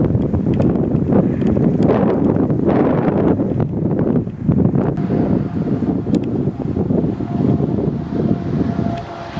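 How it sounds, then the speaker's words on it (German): Wind buffets the microphone outdoors during a car trip through Scandinavia, a steady loud rumbling roar with gusty swells that lasts throughout, no voices over it. "Wenig windig hier."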